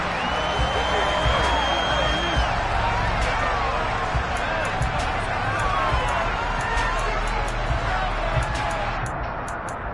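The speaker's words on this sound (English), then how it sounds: "Shouts from this crowd as they watch the replay." Football stadium crowd at a Buccaneers vs Chargers game shouting as a replay is shown, a dense, steady roar of many voices throughout with a commentator's voice running over it.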